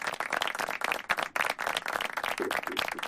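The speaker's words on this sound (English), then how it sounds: "We all congratulate and do a virtual clap for our dear guest of today" Dense applause from an audience welcoming a guest on a talk show, steady clapping throughout at close range with no voices over it.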